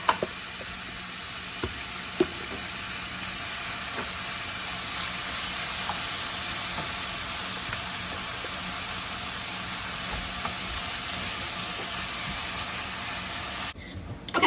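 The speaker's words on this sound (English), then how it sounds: "I'm gonna allow these onions to cook in with the turkey" Ground turkey and onions fry in a pan with a steady, close sizzle lasting throughout, broken by a few faint knocks and stirring clicks and a short pause near the end.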